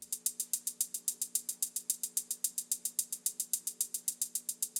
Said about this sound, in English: And then we had this hi-hat